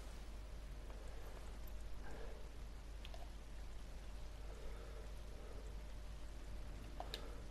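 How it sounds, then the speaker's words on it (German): Video-game rain patters softly and steadily with scattered drips landing on surfaces, faint and continuous, with no voices. "und jetzt regnet es"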